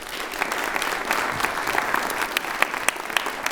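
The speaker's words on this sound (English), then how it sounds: "Give yourselves a round of applause." Audience applause at a Maryland male students of color summit, a dense, steady wash of many hands clapping from a large crowd, sustained throughout with a few sharper claps standing out.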